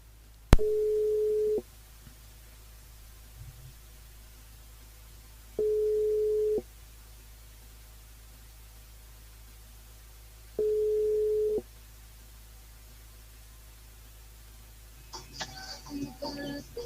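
Telephone ringback while a radio show calls a listener back, three steady electronic tones about a second long separated by long quiet gaps, heard fairly clean over a faint line hiss before some muffled noise at the end.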